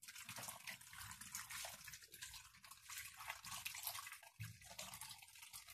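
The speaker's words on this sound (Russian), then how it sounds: "И заливаем все это водичкой." Water is poured into a Polaris multicooker over potatoes, giving a steady, close splashing and trickling stream that runs for several seconds with no talk.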